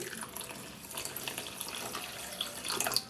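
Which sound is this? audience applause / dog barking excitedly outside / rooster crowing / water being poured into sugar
water being poured into sugar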